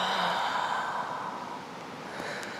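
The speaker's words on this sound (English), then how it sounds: "Open mouth, exhale." A single long open-mouth exhale during yoga breathing, a close breathy rush that is loudest at the start and gradually fades away.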